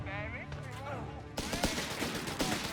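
A Bishop self-propelled 25-pounder gun fires in Company of Heroes 3, its sharp blast cutting in after a stretch of game voices and sound effects, followed by crackling battle noise.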